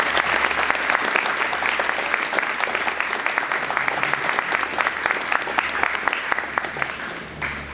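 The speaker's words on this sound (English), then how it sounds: "I'd love to give them a round of applause" At a Veterans Day program, an audience applauds students with loud, sustained clapping, a dense continuous wash of many hands heard close and full throughout, with a low steady hum beneath.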